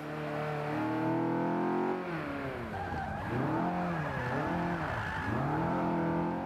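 Car drifting through a corner on the Long Beach street circuit in Forza Motorsport 5, engine revving hard and loud with pitch swooping up and down as the tires slide, continuous throughout with no voices.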